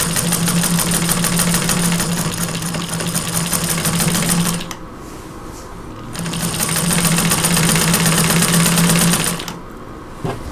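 A 1947 Singer 15-90 domestic sewing machine stitches a quilt in two long runs of loud, fast, steady whirring, each broken by a short quiet pause.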